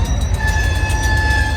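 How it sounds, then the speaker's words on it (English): A train passes close by a KBR925 ballast regulator working in Camden, New Jersey, producing a loud continuous rumble with thin, steady metallic squealing tones riding on top. "Train just going by, making all that noise."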